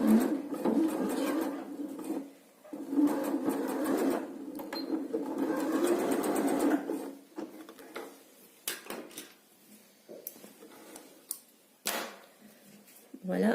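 A sewing machine stitches the seam of a braided headband in short bursts of rapid whirring. The bursts are broken by pauses, then come clicks and handling noises as the presser foot is raised and lowered.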